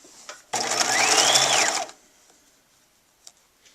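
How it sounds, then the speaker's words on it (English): A sewing machine stitching a sleeve on Butterick pattern 5824 runs in one loud, close burst of about one and a half seconds, then stops, leaving faint small clicks. "And now I'm going to keep stitching."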